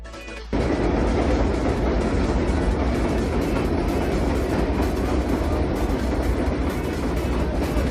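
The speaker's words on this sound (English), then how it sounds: "in order to catch a train." A train rumbles past on an elevated subway line, a loud steady roar with clattering wheels that starts abruptly and continues without a break.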